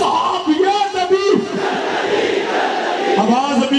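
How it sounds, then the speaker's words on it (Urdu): A packed crowd at a religious conference rally in Pakistan roars slogan responses together, loud and continuous, with a leader's voice cutting across the massed shouting. "میرے ساتھ نعرے کا جواب دیجئے"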